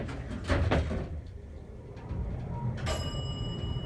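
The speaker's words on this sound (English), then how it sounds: "I love that bell though." A Montgomery Vector elevator at Lake Forest Plaza in Lake Forest, Illinois sounds its bell: a single clear chime that rings out and lingers near the end, after door and cab rumbling, with no voices.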